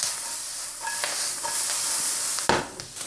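Onions and dried herbs sizzle and fry in a pan, a steady close hiss with stirring scrapes and a brief clatter near the end.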